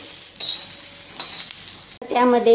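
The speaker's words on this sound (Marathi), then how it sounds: "आपण लाल मिरच्यासुद्धा दोन लाल मिरच्या घेतलेल्या आहेत सुक्या आहेत त्यांना पण भाजून घ्यायचे याप्रमाणे टमाटेसुद्धा भाजून घ्यायचे" Dry red chilies and tomatoes being dry-roasted in a pan give off scraping stirs, light sizzles and metal clinks against the cookware, with a brief spoken word in between.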